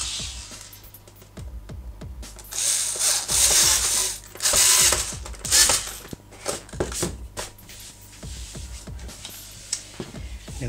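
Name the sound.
screwing a cooling grille onto a PS3 slim console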